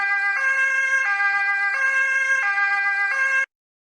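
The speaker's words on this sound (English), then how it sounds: "Emergency vehicle siren selected." An insulin pump alarm set to an emergency vehicle siren tone gives a loud two-tone wail that alternates pitch about five times in quick succession and then cuts off abruptly.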